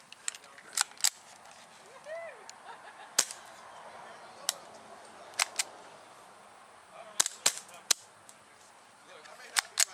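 A KJW KC02 airsoft rifle fires a string of sharp, snappy shots at irregular intervals, close and loud, over a faint outdoor background; speech is also picked up.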